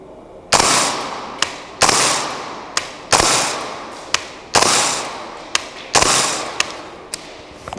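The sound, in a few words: five shots from Radian Model 1 gas blowback rifle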